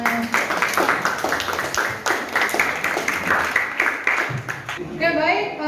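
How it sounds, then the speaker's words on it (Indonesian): A class applauds student Tasya, a quick flurry of clapping from a room of pupils that fades out, followed by a voice speaking near the end. "Terima kasih Tasya, tepuk tangan."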